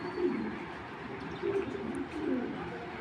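Soft, low cooing from a silver-bodied racing pigeon, a few rounded murmuring coos spaced across the clip, faint and close against a quiet background hiss.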